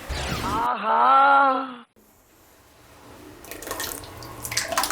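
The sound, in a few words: water being poured into cooking pot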